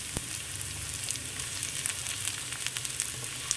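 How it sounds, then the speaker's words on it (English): Tomatoes sizzling in a pan with onions for Sri Lankan style sambar, a soft steady hiss sprinkled with small pops and light crackles, no voices. "Okay, so I'm actually adding in the tomatoes right now."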